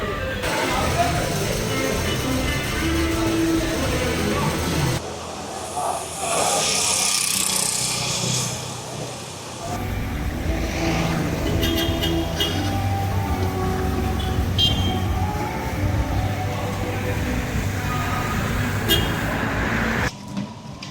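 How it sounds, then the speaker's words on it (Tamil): A car out on a test drive after two days of mechanical repairs: a steady, loud engine drone and road rumble that continues throughout, with people talking over it. "டெஸ்ட் ட்ரைவுக்கு எடுத்துக்கொண்டு போகிறோம்"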